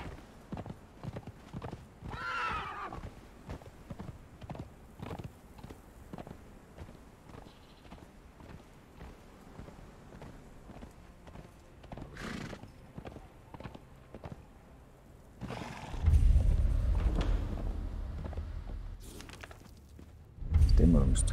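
Hooves clip-clop in a steady rhythm, a horse neighs loudly, and heavier galloping thuds surge in later, with a voice speaking briefly, in the video game Conan Exiles.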